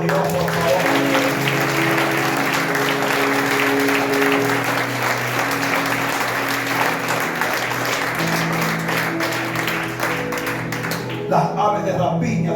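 A church congregation breaks into sustained applause during an evangelist's sermon, a dense, loud wash of many hands clapping that continues steadily and fades near the end, with a sustained musical tone underneath.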